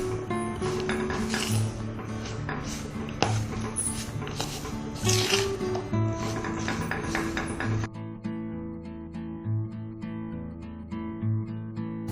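A spoon clinks and scrapes against a bowl while a vegetable Manchurian mixture is stirred, a steady run of light metallic taps over a soft backing tone that shifts partway through.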